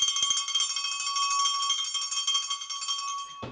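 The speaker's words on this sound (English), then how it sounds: "I'll give a bell ring for Ashton and Dermot" A single bell rung during a New York City marathon training live chat, sounding as a bright sustained metallic ring that holds steady for about three seconds, loud and close, alone with no talking, then cuts off abruptly.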